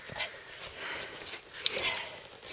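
A dog at a mountain lake in Norway gives faint, high whimpers and whines in short bursts over a quiet outdoor background.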